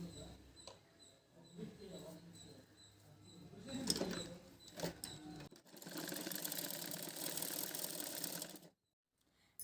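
Sewing machine stitching the lining of a girl's lehenga blouse, running in short bursts and then a longer continuous whir, close and fairly quiet, with a voice speaking in between.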